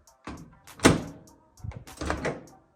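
A Panasonic microwave door swings shut with a firm latch thunk, followed by a couple of softer clicks and rattles, heard close up with no talking.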